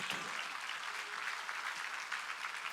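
Church congregation clapping together during a Korean sermon, a dense steady wash of applause that holds evenly throughout, fairly distant and soft, with no voice over it.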